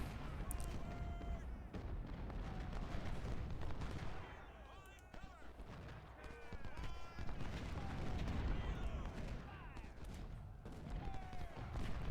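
Musket volleys and cannon fire from a Union campaign battle at Fredericksburg in the Civil War strategy game Ultimate General: Civil War, a steady, dense stream of overlapping shots and booms with a brief lull near the middle.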